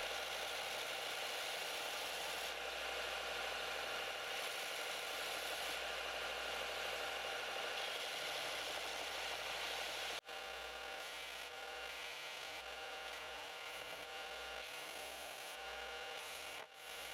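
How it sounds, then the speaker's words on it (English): A belt sander grinds steadily across overfilled resin on a carbon fiber eyeglasses stand, a loud continuous buzz with a brief break near the midpoint before the drone resumes. "The belt sander was the perfect tool to flatten out the overfilled resin"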